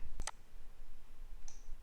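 Mouse clicks in a DHCP management console on a computer: a sharp double click near the start, then a single fainter click about a second later, with no talking.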